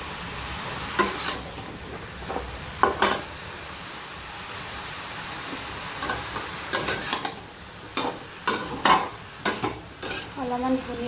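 A spatula scrapes and clatters against a pan while dried fish and mixed vegetables are stir-fried, with irregular metallic knocks that grow more frequent toward the end over a quiet, faint sizzle.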